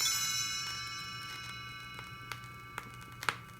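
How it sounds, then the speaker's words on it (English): Faint, delicate chimes on a 1979 book-and-record signal a page turn, a few soft ringing strikes spaced apart over a quiet, fading tone. "You will know it is time to turn the page when you hear the chimes ring like this."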